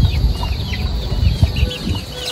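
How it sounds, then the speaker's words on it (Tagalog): A mother hen and her chicks cluck inside a coop, the soft clucks repeating over a steady outdoor background with no talking. "Meron pong sisiw dun Tsaka po merong inahin."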